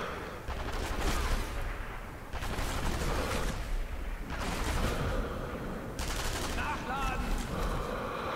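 Gunfire in the World War II shooter game Sniper Elite 2: repeated bursts of loud shots and crackling reports in roughly four waves across several seconds, with a voice speaking over the din.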